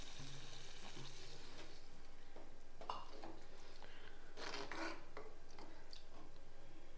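Water splashes and pours into a pot of vegetarian fish-style curry over a steady hiss of cooking noise, with a couple of louder gushes near the end.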